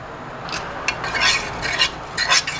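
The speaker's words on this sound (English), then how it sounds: "so I just mix all those things together" Spoon stirring and scraping through a bowl of chilli sauce blended with oyster sauce for Singapore chilli crab, a repeated close swishing, scraping rhythm of several strokes with no talking.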